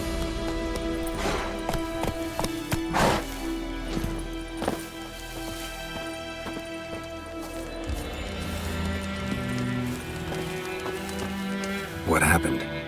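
Geralt's horse Roach in The Witcher 3: Wild Hunt, hooves clip-clopping at a trot with irregular thuds and a sharp impact near the end, a game music bed and voices talking over it.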